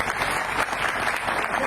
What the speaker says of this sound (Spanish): Fuerte el aplauso a esa luchadora de mil batallas, Carmen Mazara Viuda Gómez!